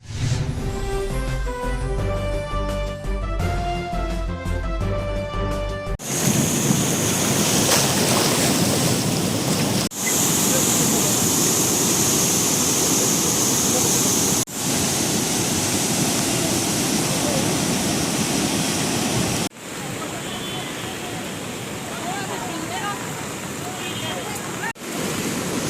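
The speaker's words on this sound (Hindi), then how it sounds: "मुसलसल हो रही बारिश के बाद राजौरी की नदी इस वक्त तूफान पर है।" A rain-swollen river in Rajouri roars after days of continuous rain, a heavy, steady rushing wash with wind buffeting the microphone. It comes in after a few seconds of music and is broken by several abrupt cuts.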